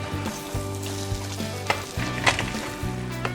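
Stuffed eggplant and crushed peanuts sizzle in a pan as they are gently turned, a continuous frying crackle with soft stirring scrapes, close and moderately loud, with a low steady hum underneath.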